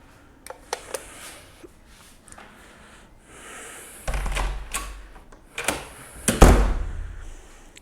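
A hotel room door at the Taj Fort Aguada resort in Goa opens with a clunk of the latch and a soft swing, preceded by light clicks and followed by room tone, with no talking.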